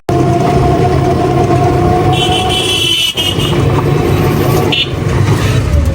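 Inside a moving car on the road, a steady rumble of engine and road noise continues, with brief horn toots around it.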